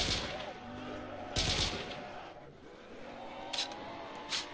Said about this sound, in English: The 3-shot burst pistol, not bad.